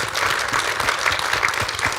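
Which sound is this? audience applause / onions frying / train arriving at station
audience applause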